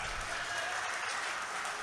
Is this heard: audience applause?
yes